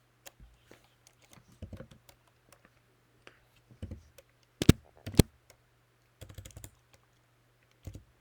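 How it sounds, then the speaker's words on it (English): Computer keyboard typing in short, irregular bursts of clicks with pauses between, close and fairly quiet over a steady low hum, with a few sharper key strikes standing out. "Apologize for the typing that you're hearing"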